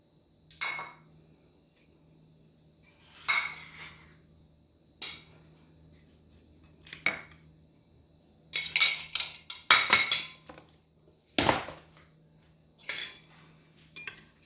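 Fried mochiko-coated mahi mahi is plated onto a dish: sparse clinks and scrapes of utensils against the plate, spaced irregularly with quiet gaps, a busier cluster of clatter near the end, close and without talk.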